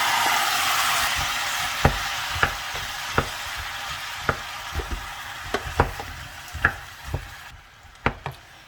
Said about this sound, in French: Mes oignons et l'ail commencent à dorer, je vais verser les légumes.